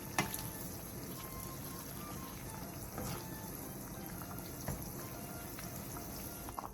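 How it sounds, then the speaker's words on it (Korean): Water in a pot for a Korean side dish boiling on high heat, then turned down to a medium-low simmer: a steady, close, dense bubbling and gurgling that runs without a break and with no voices. "그 다음 센 불에서 끓이다가 물이 끓어오르면 중약불로 줄여 3분 정도"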